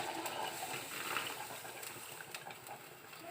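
Water being poured into a pot of mutton curry, a steady, fairly quiet broadband gush of liquid with soft splashing that stays even for a few seconds, with no talk.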